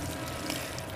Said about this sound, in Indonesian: Nah, ini tak siram seakilah.